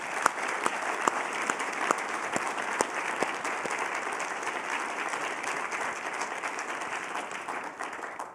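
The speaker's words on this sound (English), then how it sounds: "Let's give them a round of applause." Sustained audience applause fills a symposium hall, many hands clapping densely and evenly at moderate volume for the whole stretch, with no voices over it.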